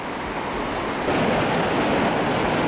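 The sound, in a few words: Chuya river water flowing near Mozhay bridge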